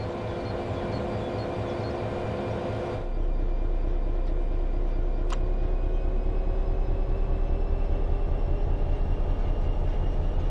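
An electric train in the Train Sim World 3 simulator powers up under throttle, a steady mechanical drone that jumps to a louder, deeper hum with a rhythmic pulsing as power rises. The sound is continuous and close.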